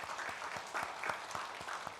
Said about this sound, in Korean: 한번 큰 박수로 격려해 주시기를 바랍니다